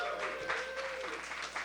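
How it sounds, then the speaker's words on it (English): Audience applause at the Hackaday Supercon badge hacking ceremony: a steady, dense wash of clapping from a crowd that holds at an even level for under two seconds, with no voices over it. "Let's have some applause."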